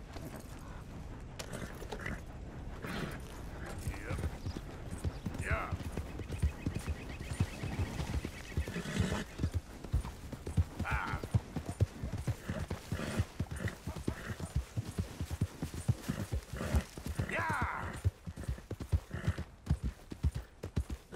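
A horse gallops in Red Dead Redemption 2, its hooves drumming in a fast, steady, unbroken rhythm throughout, fairly close and moderately loud, with no talking.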